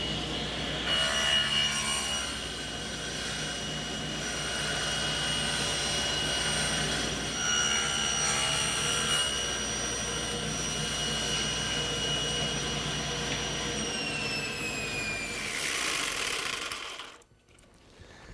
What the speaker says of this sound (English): to make these interior cuts come out straight, we're going to use a technique on the table saw called drop cutting